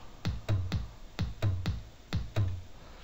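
A sparse electronic beat of deep tom thumps in grouped hits with gaps between, moderately loud and steady, programmed in FL Studio for electro house, no talking.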